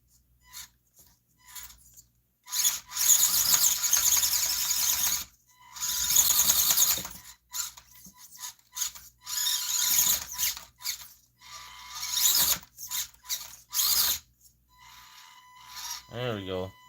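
An indoor RC crawler's motor whines in repeated high-pitched bursts as it climbs over obstacles, starting and stopping with the throttle, with brief talk in between.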